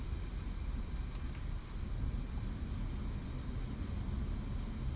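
A jet aircraft in a flight game makes a rough landing, heard as a steady, loud, low rumbling engine and rolling roar that continues without break through the whole stretch.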